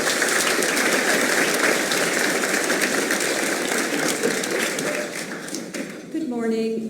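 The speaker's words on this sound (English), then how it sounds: "Please give her a big round of applause." Loud, dense applause fills a business chamber of commerce debate event for a U.S. Bank sales manager, a steady roar of many hands that eases off toward the end before a voice begins.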